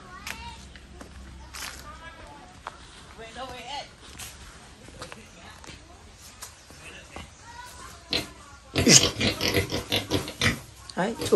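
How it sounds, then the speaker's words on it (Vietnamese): Pigs grunting in a clean farm pen, low snuffling sounds under a busy scene with speech around them and louder clattering near the end. "Vào xem lợn nhà em Ly xem nào."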